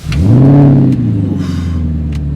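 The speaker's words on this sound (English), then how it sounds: "When I get into a supercar, I need it to sound like I'm in a supercar." A supercar engine revs hard, rising to a loud peak and then settling into a strong, steady low rumble, close and with no voices over it.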